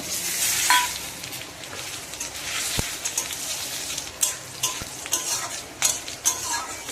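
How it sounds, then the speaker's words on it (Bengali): Dry chilli, bay leaf and cumin sizzle steadily in hot oil for tempering a curry, with a bright continuous hiss broken by occasional utensil taps and scrapes nearby. "তেলটা গরম হয়ে গেছে এবার আমি তরকারিটা একটু সম্ভারা দেবো"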